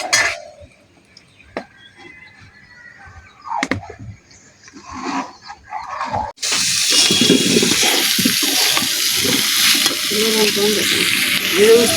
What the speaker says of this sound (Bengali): ঝাল পেঁয়াজ সবই কেটে একসাথে তেলের উপর দিয়ে দিচ্ছি এবং নাড়বো